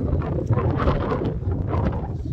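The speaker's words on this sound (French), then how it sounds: "Avec le vent en général, ça perturbe tout." Steady, rough wind noise buffets the microphone throughout, a loud broadband rumble with no voices.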